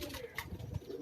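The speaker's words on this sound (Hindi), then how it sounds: "ये रामपुरी कबूतर है मेरे जोर से, रामपुरी कबूतर है ये" Rampuri pigeons cooing on a rooftop in Karachi, a soft, low rolling coo that repeats steadily through the moment, fairly faint with light background noise.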